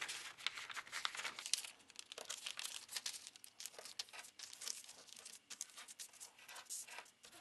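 Paper being folded and creased for an origami computer mouse, close crinkling and rustling scrapes in irregular bursts, soft and near with no talking.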